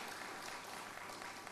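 An audience at a corporate meeting claps steadily for a group of mountaineers, a dense, even patter of many hands heard faintly with no pauses.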